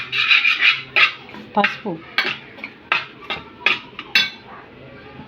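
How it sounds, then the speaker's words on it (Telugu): Mint, coriander and two chillies are stirred in a pot for aloo biryani, with a metal spoon scraping and tapping in a steady rhythm of about a dozen close strokes. A voice speaks briefly over it. "పుదీనా, కొత్తిమీర, 2 మిర్చి. ఇది కలుపుకోవాలి బాగా."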